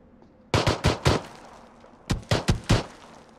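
Gunfire in PlayerUnknown's Battlegrounds, heard as two loud, close bursts of four rapid shots each, separated by a short pause, with no talking.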